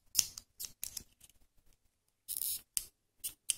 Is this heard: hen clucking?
no